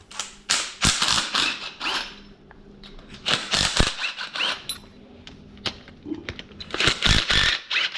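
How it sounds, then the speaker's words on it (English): Bolts being removed from the pulley on a 2004 Ford Escape 3.0 engine, a dense run of sharp clicking and ratcheting bursts close by, repeated throughout with brief pauses. "I'm going to take these bolts off here."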